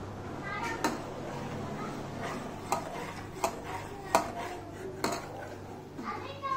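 Spoon clinking against a pot while something thickens on low heat with sugar added, sharp metallic taps repeating every second or so under a steady voice talking.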